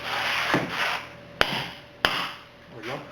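Hammer strikes a stuck axle on a Toyota Highlander during wheel bearing replacement: two sharp metallic taps about half a second apart, close and loud, between quieter scraping and handling noise.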